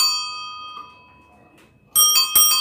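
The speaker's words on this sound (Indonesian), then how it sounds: "Sepintas belnya ini mirip suara bel delman atau genta" Two sharp metallic rings from an onthel bicycle bell cut in near the end, loud and bright after a quiet stretch where an earlier ring fades away.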